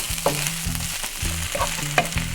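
Onions fry in a hot pan with garlic salt and black pepper, sizzling steadily at close range, with a few sharp clinks of a utensil stirring against the pan.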